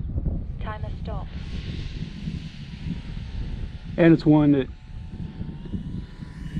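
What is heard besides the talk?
RC model airplane flying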